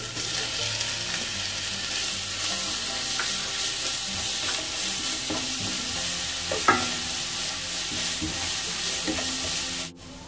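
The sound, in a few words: sautéing crushed ginger and garlic for duck curry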